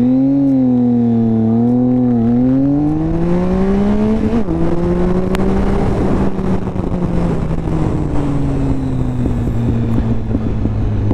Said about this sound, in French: On met du gaz et c'est parti pour un petit 0 à 100